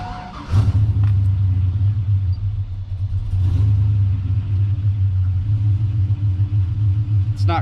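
Cammed LQ4 V8 in a Silverado truck fires up with exhaust cutouts capped, a sharp start burst followed by a loud, steady lumpy idle rumble with a brief blip midway, no talking.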